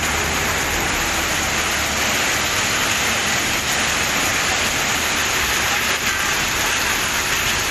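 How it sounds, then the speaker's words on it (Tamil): Heavy rain pours down in Kumbakonam, Thanjavur district, as a dense, loud, unbroken hiss of drops hitting surfaces, with no voices. "தஞ்சாவூர் மாவட்டம் கும்பகோணம் மற்றும் அதன் சுற்றுவட்டார பகுதிகளில் கனமழை பெய்தது."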